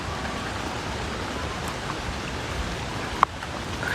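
Rain falling on the MacRitchie Treetop Walk in Singapore, a steady broadband hiss of heavy rainfall with one brief sharp knock partway through.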